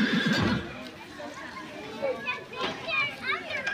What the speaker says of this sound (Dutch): Hier zijn de paarden.